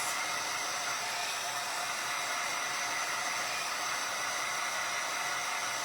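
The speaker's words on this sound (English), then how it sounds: "let me dry this real quick" A blow dryer roars steadily at close range as it dries an embroidery hoop snowman craft, a constant loud hiss with no breaks and no talking.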